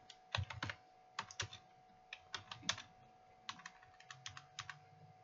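Quiet computer keyboard typing while entering a search, with short irregular clusters of light key clicks close by and a faint steady hum underneath.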